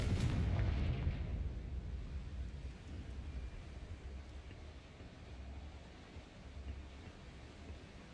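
A Confringo spell detonates in Hogwarts Legacy, a loud booming blast at the start that rolls into a long, low rumbling decay lasting several seconds, with no talk.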